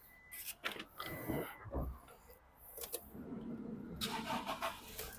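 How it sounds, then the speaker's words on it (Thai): A 2018 Toyota Revo 2.4E automatic pickup, raised-cab model, is started, with clicks and clunks followed by the engine cranking and catching into a faint idle, all fairly quiet with no talking. "เดี๋ยวไปสตาร์ทรถให้ฟังกันด้านนู้นนะครับผม"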